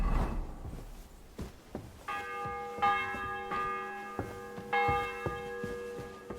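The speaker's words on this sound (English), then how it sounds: "The bell's ringing for Hans." A church bell tolls in the medieval video game Kingdom Come: Deliverance 2, ringing out in several distinct strikes with a long ringing decay after each, under faint background sounds and no talk.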